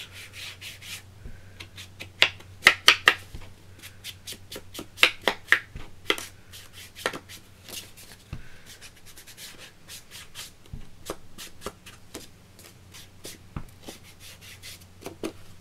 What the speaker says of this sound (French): le craft avec le Distress Oxide Vintage Photo. Voilà, histoire de vieillir un petit peu le papier